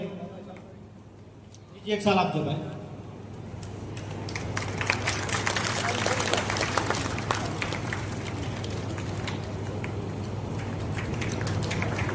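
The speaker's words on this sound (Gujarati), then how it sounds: "આ તબક્કે આપણે ખૂબ તાળીઓથી અમને વધાવીશું" Audience applause at a North Gujarat community get-together and felicitation ceremony, a burst of clapping rising suddenly and settling into sustained, dense crowd clapping over a low steady hum, with a voice speaking briefly just before it.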